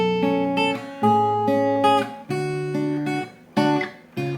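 Guitar plays a riff, plucked notes ringing together in repeating arpeggiated groups with strong attacks, close and fairly loud, no talking.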